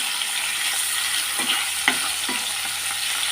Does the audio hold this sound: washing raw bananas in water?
no